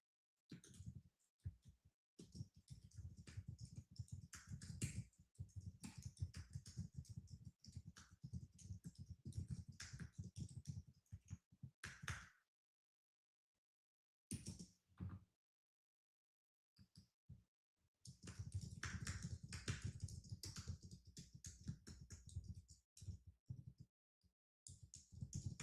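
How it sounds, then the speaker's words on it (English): Rapid clicking of typing on a computer keyboard, dense runs of close keystrokes broken by a couple of short pauses, with no talking. "I'm typing, y'all."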